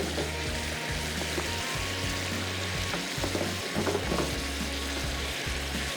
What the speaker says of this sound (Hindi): खूब अच्छे तरीके से हमने इस ग्रेवी को भूनना है, इतना है कि ऑयल अलग हो जाए और ग्रेवी हमारी थिक हो जाए